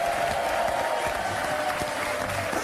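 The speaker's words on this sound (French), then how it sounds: "Applaudissements pour lui." Steady applause from a TV studio audience, a continuous patter of clapping at moderate loudness with no talking over it.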